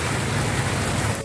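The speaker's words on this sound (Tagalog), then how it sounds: "At ito, malakas ang ulan." Heavy rain falls steadily and loudly in an outdoor Filipino cooking setting, a dense continuous wash of drops on surfaces with no talk, easing slightly at the very end.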